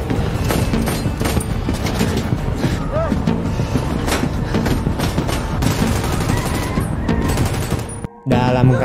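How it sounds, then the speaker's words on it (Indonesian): Loud, dense bursts of gunfire ring out during a frantic car chase, rapid shots layered over engine and impact noise, briefly cutting out near the end before resuming. "suara tembakan menggema di tengah pengejaran sengit"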